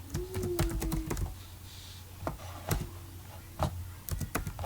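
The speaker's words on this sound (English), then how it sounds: "we're going to type something." Quick, light clicking of keys on a computer keyboard, coming in irregular bursts with short pauses, close and fairly quiet.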